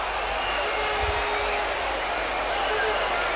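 Cricket crowd at a 1990 West Indies v England Test applauding a good chase and return in the field, a steady broad wash of clapping and cheering spread across the ground, with commentary over it.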